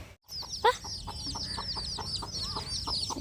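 A hen clucks in soft repeated notes while her chicks' high peeping chirps run continuously over them, close by and moderately quiet.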